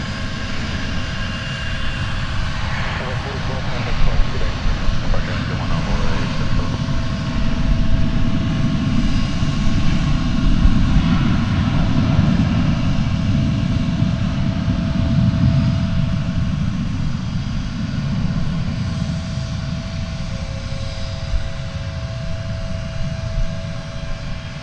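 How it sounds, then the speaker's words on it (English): An Airbus A321 in Stand Up To Cancer livery departs from DFW Airport with a loud, continuous jet roar and a thick low rumble under a whining tone, steady and near throughout. "It's an Airbus A321. It's kind of hanging out. Let's go back to the stand up to cancer livery as it departs."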